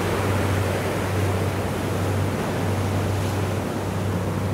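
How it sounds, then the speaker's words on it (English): Waves and surf at Venice Beach in Los Angeles make a steady, broad wash of noise with a low rumble underneath, continuous and moderately loud, with no voices. "Venice Beach, Los Angeles, California."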